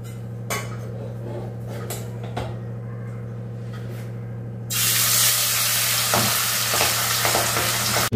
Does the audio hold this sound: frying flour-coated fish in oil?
yes